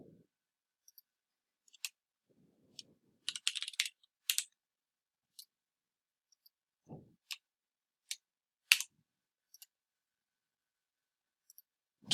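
Someone enters a password on a computer keyboard in a quiet room: sparse, faint key clicks and taps come in small irregular bursts with long silent gaps between them.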